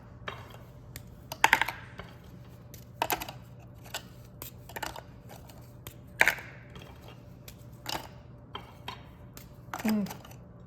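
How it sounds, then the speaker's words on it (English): Biscoff cookies dropped into a KitchenAid food processor, giving a few sharp hard clacks and rattles against the bowl at irregular intervals over a low steady hum, close and moderately loud. "I have some more of my biscoff cookies and we're just gonna put them right in there"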